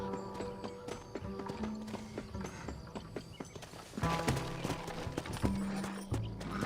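A horse in the video game Red Dead Redemption clip-clops at a steady gait with a brief whinny, its hooves sounding close against quiet game ambience.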